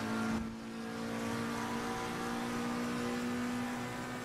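A GT race car engine in Assetto Corsa Competizione on the Suzuka circuit, held at full throttle. It gives a steady, sustained high-pitched drone with little change in pitch and no talking over it.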